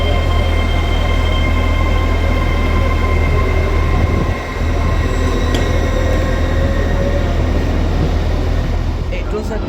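A Trans-Pennine Express train rumbles loudly close by at a station, with a continuous heavy roar, faint squeals and clanks, and a brief dip in the noise partway through.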